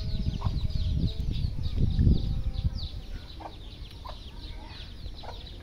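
Outdoors, several chickens give short, repeated clucks at moderate distance over a low rumble of background noise, with chicks nearby.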